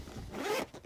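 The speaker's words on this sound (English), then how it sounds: "Zipper it open." A zipper is quickly pulled open on a fabric UV sanitizer box, a single short close rasp in a quiet room.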